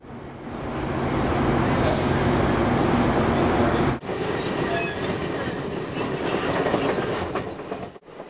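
A passenger train rolls along the rails with a loud, continuous rumble and rhythmic clickety-clack of the wheels, with brief squeals and a sharp cut near the end, and no voices.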